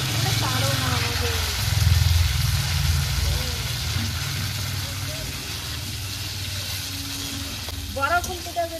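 Vegetables fry in a pan for rainy-day khichuri, a steady, fairly loud sizzle running throughout with a few louder bursts, while voices murmur in the background.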